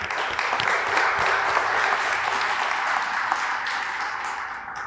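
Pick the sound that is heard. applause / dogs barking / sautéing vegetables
applause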